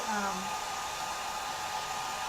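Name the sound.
hair dryer drying glue on a craft project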